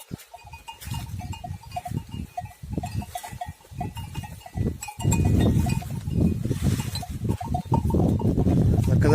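Flock of sheep grazing in open pasture, with many bleats overlapping near and far, a clanking bell among the animals, and the noise growing louder and denser in the second half.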